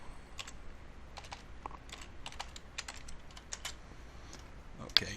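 Keys clatter on a computer keyboard as a database username is typed, with irregular quiet clicks in short bursts against a steady low background hum, plus a sharper knock at the very end.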